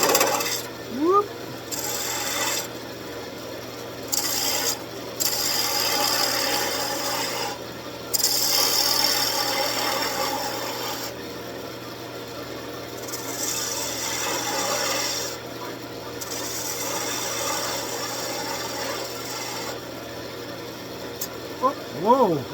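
A gouge scrapes against a Christmas tree ornament spinning on a wood lathe, a continuous raspy cutting hiss that pauses and resumes several times, with a person talking intermittently over it.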